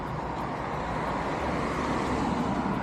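Town road traffic on a paved street in Coimbra, Portugal, a continuous moderate rumble of passing cars and vehicles at a steady level, with no talking.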